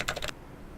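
Rapid keystrokes on a computer keyboard while entering text into a document form, a short close burst of several clicks lasting about a third of a second, then quiet.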